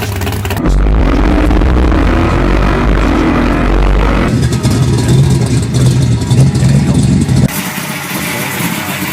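A 489 cubic inch big block V8 runs close and loud with a deep, steady rumble, its tone shifting partway through as the engine note changes, then dropping off abruptly near the end.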